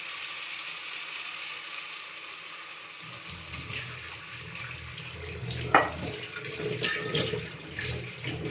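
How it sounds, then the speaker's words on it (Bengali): Water poured into a pan of spicy yogurt and pointed gourd curry after the masala is sautéd, in a home kitchen: a steady close splashing that swells partway through, with a short sharp clatter near the end. "একটু জল দিয়ে দেবো।"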